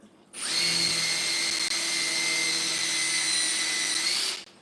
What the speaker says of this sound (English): If you countersink it and then drill a bit more